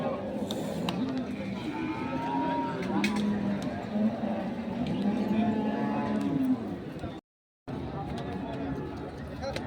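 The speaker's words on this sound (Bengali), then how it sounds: "আজকে হাটের সেরা দুটি বলদ এখানে রয়েছে" Haryana-breed bullocks and large bulls at a busy cattle market let out long, drawn-out moos close by, amid crowd chatter and voices, before a brief cut to silence.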